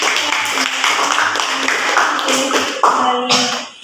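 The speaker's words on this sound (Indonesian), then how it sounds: "tepuk tangan untuk kelompok" A classroom group receives clapping from students, scattered hand claps and taps running steadily at close range through the whole stretch with some background voices mixed in.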